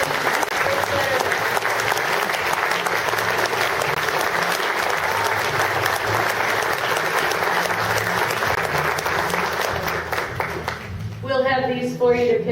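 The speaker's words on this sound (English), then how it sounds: "Let's have a round of applause for these great veterans." Applause for veterans at a reunion banquet: a loud, sustained round of clapping from a large audience filling the room, fading at the end as a voice begins speaking.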